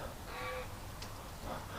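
A crow caws once or twice at a distance over a steady background hiss, brief harsh calls with no talking.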